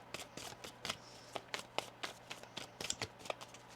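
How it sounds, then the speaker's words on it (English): Tarot cards are shuffled by hand in a quick series of crisp riffling and tapping bursts, close and fairly quiet, with no talking. "One more shuffle here."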